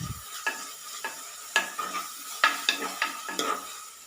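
Ginger-garlic paste fries in a pan while a spoon stirs it, sharp scraping strokes every half second or so over a soft sizzle, close and clear, with no voices.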